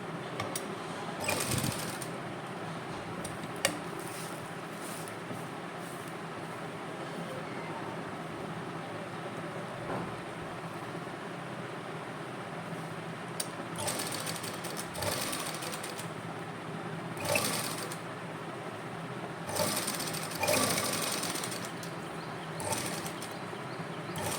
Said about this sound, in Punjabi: ਫਿਰ ਆਪਾਂ ਨਾਲ ਨਾਲ ਸਲਾਈ ਲਾਈ ਜਾਣੀ